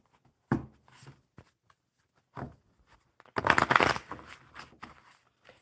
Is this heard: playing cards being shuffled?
yes